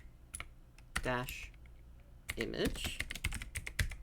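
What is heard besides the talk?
typing a command on a computer keyboard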